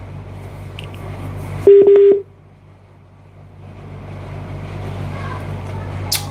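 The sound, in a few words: telephone dialing tones placing a call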